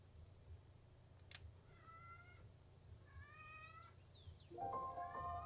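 A cat meows several times in short, rising cries, the last one louder and closer, over a low, steady rumbling background with no talking.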